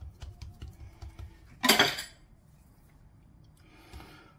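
A knife slices through a block of chequerboard sablé biscuit dough, giving one brief scraping cut against the board amid quiet kitchen handling.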